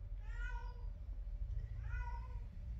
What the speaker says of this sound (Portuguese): E dá esses miadão aí, ó, que parece que tá com dor